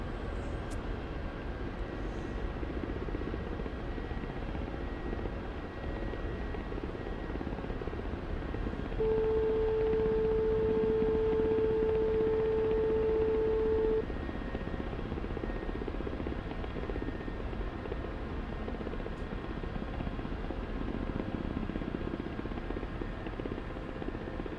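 A Ka-50 Black Shark attack helicopter comes in to land in the DCS flight simulator, its steady rotor and turbine drone droning evenly throughout, with a sustained tonal warning beep partway through.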